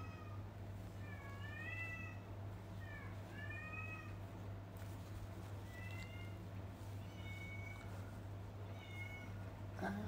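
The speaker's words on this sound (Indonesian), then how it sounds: "Kucing aku kenapa?" A pet cat meows repeatedly in a quiet room, several short rising-falling cries spaced a second or two apart, clear but moderate in level over a steady low background hum.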